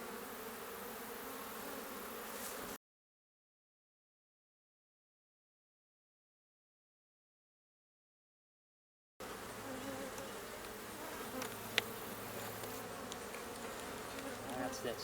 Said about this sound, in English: But first I got to get the bees off of it.